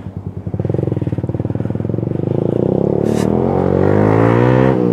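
A motorcycle with a loud muffler rumbles close by while riding, its pulsing exhaust note steady at first and then rising as it accelerates, with wind noise from an open helmet visor.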